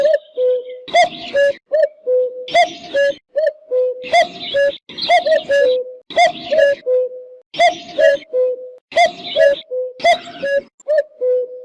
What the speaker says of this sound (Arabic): ثامنا، طائر الوقواق.